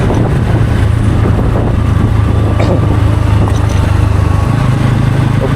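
A motorcycle being ridden along a road, with a loud steady engine drone and heavy wind rush against the microphone throughout.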